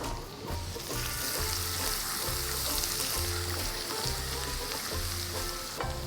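Cumin seeds, chilies and garlic sizzle steadily in hot oil for an Indian egg dish, a dense continuous frying hiss with a low periodic rumble, no voices.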